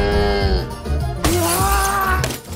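A cow lows loudly while an Atatürk bust smashes nearby, a sharp shattering crash cutting through mid-clip with the mooing continuing around it, in a Turkish comedy film scene.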